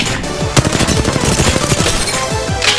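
A heavy machine gun fires in a video game, a fast relentless stream of loud punchy shots with sharp reports repeating rapidly across the whole stretch, with no talk over it.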